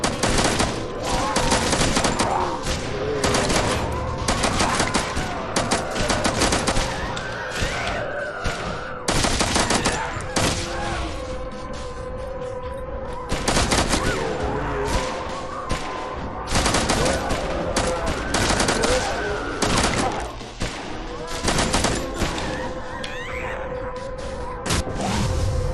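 Rapid bursts of automatic gunfire and repeated shots from the zombie offline action shooting game Death Target, dense and loud through most of the stretch with brief pauses between volleys.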